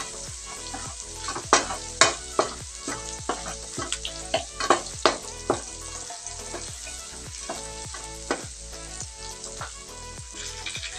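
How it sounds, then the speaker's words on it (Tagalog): Plenty of garlic sizzling in hot oil in a pan, browning to golden for chicken adobo, with a continuous frying hiss broken by repeated loud scraping stirs of a utensil; no voices. "Lagay na natin yung bawang. Maraming bawang, mas masarap. Ipa-golden brown lang natin,"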